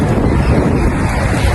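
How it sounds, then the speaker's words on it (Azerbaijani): Strong wind buffeting a handheld microphone outdoors near a university building in Baku, a loud, dense, continuous low roar and rumble with no speech. "dəhşət külək var."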